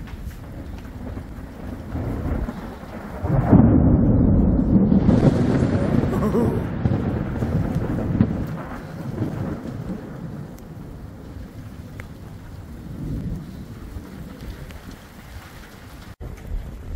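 A summer thunderstorm over a campsite in the Kgalagadi: a heavy rumble of thunder rolls in and slowly fades over several seconds, with steady rain and wind buffeting the microphone throughout.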